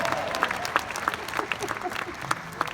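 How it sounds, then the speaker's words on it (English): An audience claps for Kathy in a steady burst of applause at moderate loudness, with a few voices faintly audible under the clapping. "give Kathy a round of applause"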